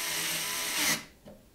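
A powered driver runs a screw into a bracket inside an SSUPD Meshroom S V2 PC case, a close whirring drone that stops abruptly, followed by a brief faint mechanical click.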